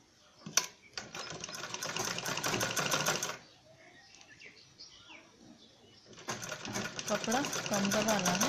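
Sewing machine stitching a zippered bag made of fur cloth at home, two loud bursts of rapid, continuous stitching separated by a quieter pause with soft handling noise and faint background sounds.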